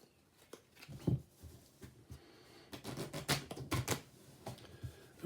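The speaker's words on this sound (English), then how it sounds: "we'll give the cards a shuffle" Rapid crisp riffling clicks come in a few quick bursts up close, like a deck of cards being shuffled, with no talking.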